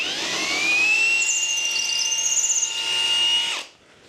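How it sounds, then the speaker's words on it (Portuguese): A power drill with an 11 mm bit boring during a barn-style sliding door installation, a loud steady whine that holds for about three and a half seconds, then cuts off abruptly. "estou com uma de 11 milímetros aqui, então vamos devagar."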